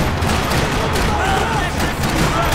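Rattling gunfire in the shooter game Max Payne 3, a loud continuous barrage of shots with no breaks, while a voice talks over it.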